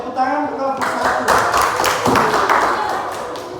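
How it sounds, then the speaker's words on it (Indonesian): A classroom of students claps for group 1, a short burst of applause under a voice that speaks at the start, then scattered hand claps that fade out. "Tepuk tangan untuk kelompok 1"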